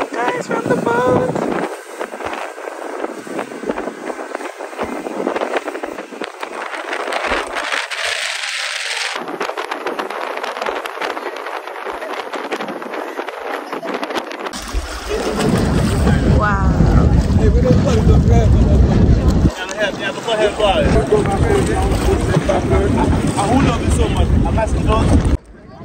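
Boat motor droning steadily with heavy wind buffeting the microphone, getting louder and rougher in the second half, with voices mixed in at times, off Antigua.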